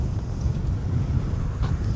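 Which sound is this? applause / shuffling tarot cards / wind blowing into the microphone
wind blowing into the microphone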